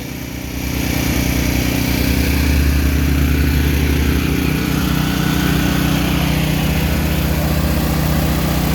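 A Kubota SVL97-2 skid steer's engine starts up and then runs steadily at a loud, constant idle-like drone with a low throbbing rumble, heard close with no talking.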